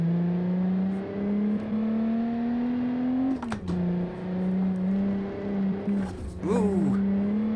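A 1970s sports car engine in BeamNG.drive holds a steady, loud drone in third gear, briefly dipping and recovering twice as the revs shift through corners, with no talk over it.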